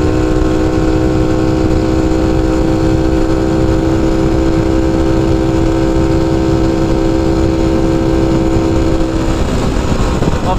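Honda Cub motorcycle engine while riding, a loud steady drone with a constant hum throughout, close and continuous with no speech.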